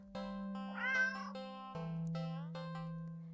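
A black cat meows in the video game Don't Take This Cat Home, a clear, close meow over a steady electronic music drone, followed by a softer trailing call.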